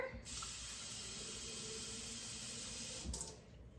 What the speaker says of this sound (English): And now I'm just going to add water